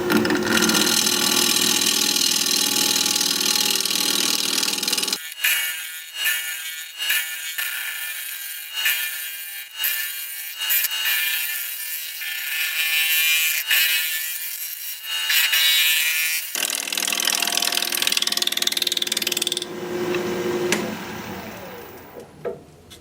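A wood lathe spins at around 1200 RPM while a piece of wood is turned, a steady mechanical whir, with loud scraping and chattering from the cutting tool at the start and end, close by.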